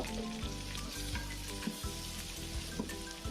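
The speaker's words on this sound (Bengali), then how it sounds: "এবার একটু তেলের সাথে ভালোভাবে আমি একটু ভেজে নিব মশলাটা" Turmeric, chilli and coriander-cumin powders sizzling in hot oil inside a rice cooker, a soft continuous fry with occasional light scrapes and pops, fairly quiet and close, with no voices.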